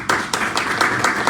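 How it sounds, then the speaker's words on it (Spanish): Applause and scattered clapping at an anniversary event of the National Archival School, honoring its director; a short burst of moderately loud, irregular claps from a group close by. "Fuertes los aplausos"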